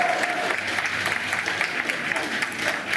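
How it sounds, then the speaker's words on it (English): Sustained applause from a crowd outside Number 10 Downing Street as the new UK prime minister, Rishi Sunak, enters, steady clapping throughout at moderate distance. "you can hear the applause as he enters number 10 as Prime Minister"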